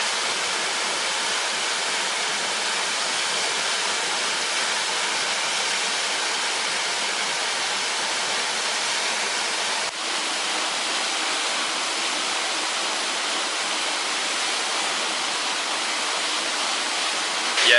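Aira Force waterfall in the Lake District, with ice on the surrounding rocks, roars as a steady, dense rush of falling water, constant and unbroken throughout with no voices.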